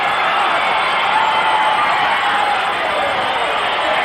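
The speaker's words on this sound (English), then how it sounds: "listen to the crowd" A large wrestling crowd cheers and roars in a steady, loud wash of noise that holds without a break.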